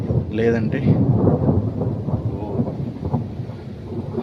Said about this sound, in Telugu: బీభత్సంగా ఉరుముతుంది.